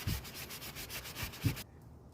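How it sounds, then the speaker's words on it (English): A rag rubs grease off a Jeep Cherokee brake rotor in a series of soft, quick swishing strokes, faint and close, ending abruptly. "I'm going to get all this grease off of the brake rotor here."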